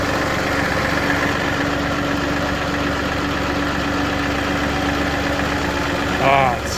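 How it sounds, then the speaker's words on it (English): A tractor engine runs steadily inside a shop, a loud, even idling rumble that swells briefly near the end. "Ah, it's sketchy using this tractor. It's so hard to go down slow."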